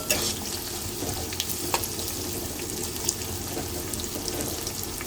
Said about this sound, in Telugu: ఉల్లిగడ్డ వేసుకోవాలి కొంచెం పుదీనా వేసుకొని కలిపేసుకోవాలి